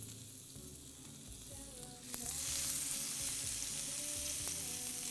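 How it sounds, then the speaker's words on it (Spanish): Chicken skewers, with zucchini among the pieces, fry in oil in a pan. A steady sizzle swells louder partway through, with a few faint clinks, and no one speaks. "Y entonces lo vamos a poner acá poner un poco más de aceite por aquí."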